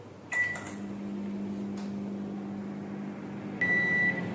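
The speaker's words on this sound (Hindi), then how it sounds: "अब हम माइक्रोवेव को 180 डिग्री पर कन्वेक्शन मोड पर रख रहे हैं प्री हीट होने के लिए" A microwave oven preheating at 180 degrees in convection mode hums steadily, with a short electronic beep near the start and another toward the end, close by and otherwise quiet.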